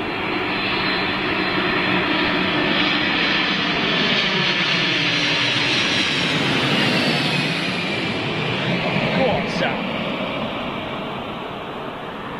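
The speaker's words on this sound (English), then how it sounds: "DHL 300 freighter." A DHL freighter jetliner at Heathrow Airport roars past, its engine noise loud and sustained, swelling as it nears and then fading slowly as it moves away, with no one speaking.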